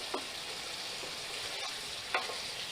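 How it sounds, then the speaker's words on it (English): A utensil scrapes browned bits off the bottom of a hot pan for French dip, steady close sizzling with a few sharper scraping strokes, no talking. "Scrape all our nice little bits off the bottom"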